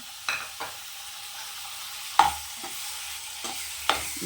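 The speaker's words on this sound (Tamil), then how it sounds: "தக்காளி நல்லா வதக்கலாம்." Three large tomatoes sautéing in a kadai, with a soft background sizzle broken by several sharp clinks and scrapes of a spatula against the pan, spaced irregularly and close by.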